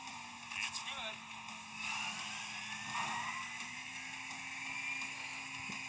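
Race cars drive in a racing video game, engines whining steadily at moderate distance with a brief skid-like screech early on, under a person talking.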